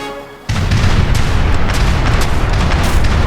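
Ships' cannons open fire in an Age of Empires III naval battle, a sudden loud boom followed by a sustained roaring barrage of overlapping blasts and rumble that fills the remaining seconds.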